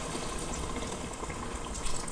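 Water is poured into a pot of aloo gosht after the meat and potatoes have been browned, a steady broadband rush that holds at an even level for about two seconds with no talk over it.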